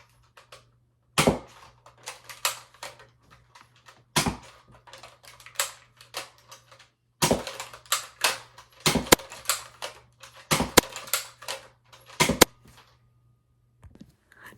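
A Nerf Maverick blaster is primed and fired repeatedly in a shooting test, making sharp, close plastic snaps and clicks in quick clusters separated by brief pauses, with no voices.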